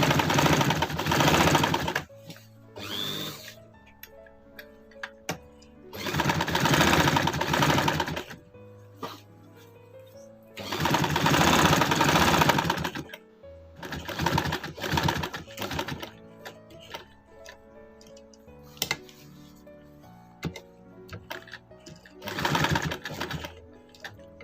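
Sewing machine stitching around the corner of a kurti collar band in several loud bursts of steady whirring, separated by short pauses.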